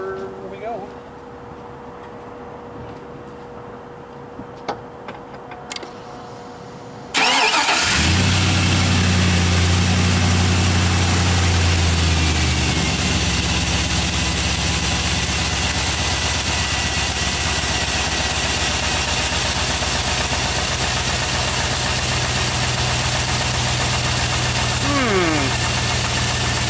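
A truck engine test-fired after EGR valve work: after a quiet stretch with a few clicks, it cranks and catches into a loud, steady idle with a ticking rhythm that runs to the end.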